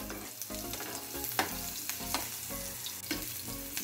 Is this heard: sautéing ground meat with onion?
yes